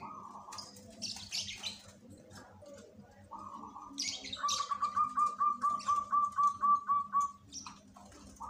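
A brown-feathered zebra dove (perkutut) coos, its rhythmic, evenly pulsed call repeating about a dozen times, preceded by softer chirps, with faint background noise and distant voices.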